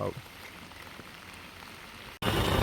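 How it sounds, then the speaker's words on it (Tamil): Heavy rain pours over a flood-threatened village as a dense, steady hiss, which suddenly grows louder and closer near the end. "இங்காலையும் வந்து மழை பெய்யுது பாருங்க ஃபுல்லாகவே"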